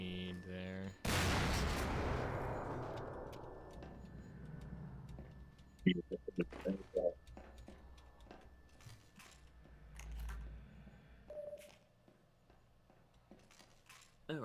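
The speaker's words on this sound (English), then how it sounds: "Oh, right, bombardment." A video game artillery bombardment ability goes off with a loud burst of blasts, followed by scattered impacts and clicks fading off while a voice talks over the action.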